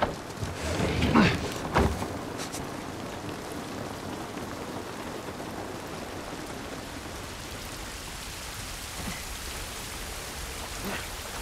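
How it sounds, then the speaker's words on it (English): Steady rain pours down in The Last of Us Part 1 Remastered, a constant hiss, with a few brief thuds and bumps near the start. "This rain ain't gonna do us any good."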